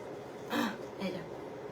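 Two short, muffled coughs about half a second apart, close by, with quiet room noise between them.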